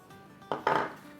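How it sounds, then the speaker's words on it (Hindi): Crispy fried noodles for a noodle chaat shift and crackle as they are handled and stirred, giving two close, brittle bursts of rustling and clattering in an otherwise quiet moment. "ऐसी क्रिस्पी करारी है, देखें कितनी गज़ब की आवाज़ आ रही है।"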